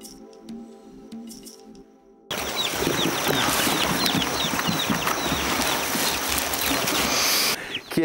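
Chickens cluck and flutter in a busy, close farmyard chorus, with wings flapping amid steady background noise after a quieter opening.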